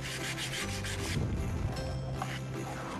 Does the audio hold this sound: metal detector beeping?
no